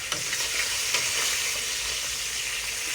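A steak sears golden brown in a hot pan, browned to medium well, giving a steady, loud, close sizzle and fry hiss that runs without a break and has no talk over it.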